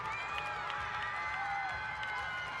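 Crowd cheering inside Haas Pavilion at a women's gymnastics championship, a sustained roar of shouting and whistles with scattered claps, continuous and fairly distant, while a commentator talks over it.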